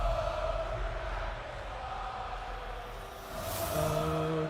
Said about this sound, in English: And the crowd showing their love.